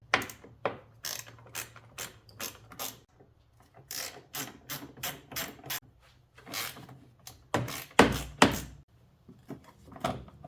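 A ratchet loosens the 10mm bolts holding the battery tray of a 2010 MK5 Volkswagen Jetta, heard as repeated short bursts of rapid clicking with brief pauses between strokes, close and moderately loud.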